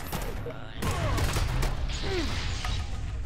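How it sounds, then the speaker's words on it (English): A bomb blast in a Fallout Shelter raider fight: a sudden loud crash and burst of impacts near the start, followed by scattered clatter and combat noise. "Yep, there's the bomb."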